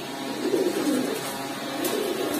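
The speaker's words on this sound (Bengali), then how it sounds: "এই কবুতরটা হচ্ছে আপনার চকলেট দম" A chocolate dom pigeon, a female, coos steadily in low repeated throaty notes, close and fairly loud, with no talking over it.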